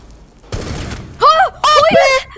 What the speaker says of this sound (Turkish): Abi adam beni adam beni tabancayla vurdu